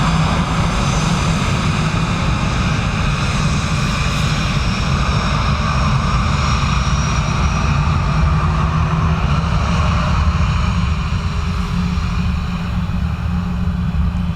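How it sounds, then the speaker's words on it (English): A VistaJet Embraer jet at Dublin Airport gives a loud, constant engine roar and rumble that stays steady and close throughout, with no voices over it. "VistaJet Embraer."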